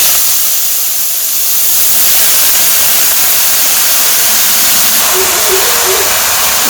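Water lily stems frying in oil in a wok make a continuous, loud, bright hissing sizzle that stays even throughout. A faint tonal sound rises briefly near the end.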